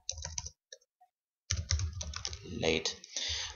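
Computer keyboard typing in quick bursts of close, crisp key clicks, with a short gap in the middle and a brief stretch of speech alongside.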